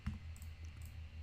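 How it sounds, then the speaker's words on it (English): Brief, faint clicks of a computer keyboard being typed on, a few soft keystrokes in quick succession over a low background hum. "we'll just type out our first word"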